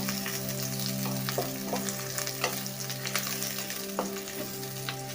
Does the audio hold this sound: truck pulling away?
no